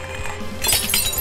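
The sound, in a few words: glass smashing in video game I am Bread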